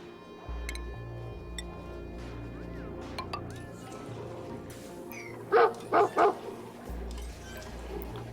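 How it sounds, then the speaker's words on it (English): A puppy gives three quick close barks in a burst, set against a quiet background with faint clinks and hums. "Are you trying to grab my attention, or did you just feel like barking at me?"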